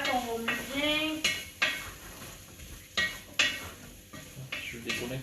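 Chicken casserole being stirred in a pot: a spoon scrapes and knocks against the sides in a series of separate strokes, fairly close and clear, with no one talking over it.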